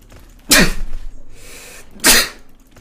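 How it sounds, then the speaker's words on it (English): Two sharp, loud sneezes close to the microphone, about a second and a half apart, with a quiet room between them and no talking. "I need to sneeze quickly."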